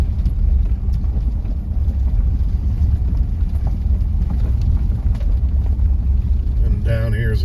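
A low-clearance van rolls slowly along a rutted dirt road through wooded hills, giving a steady loud low rumble with small jolts and rattles. It stays continuous throughout, and a brief higher tonal sound enters at the very end.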